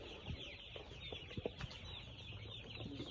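Chickens in a poultry house cluck softly in scattered, low bursts, with a steady background hum and no talking.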